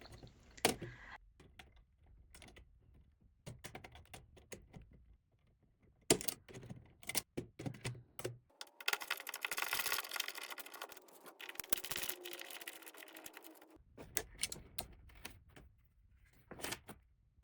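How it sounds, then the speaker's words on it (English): Wires being pulled from the terminals and an old thermostat base plate being removed from a wall, scattered clicks, scrapes and rattles close up, with a denser stretch of rustling handling in the middle. "pulling out the wires from the terminals so I can remove the base plate of the old thermostat."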